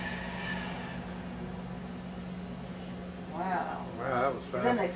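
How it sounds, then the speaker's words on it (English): An Amtrak express train on the Northeast Corridor main line runs past at about 100 miles an hour, a steady rumble that swells near the end, with people talking over it. "Here comes Amtrak."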